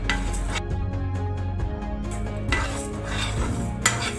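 Black cumin and mustard seeds fry in a pan for a spicy jojoba pickle, with crackling sizzle under repeated metallic scraping and clinks of a spoon against the pan.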